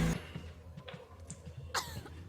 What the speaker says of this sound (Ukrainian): Вона починає кашляти, кров'ю харкає оця бляха.